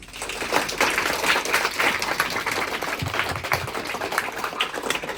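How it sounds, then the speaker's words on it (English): A crowd at a fraternity informational event breaks into sustained applause, a steady wash of many hands clapping that fills the room for several seconds. "you guys give a round of applause"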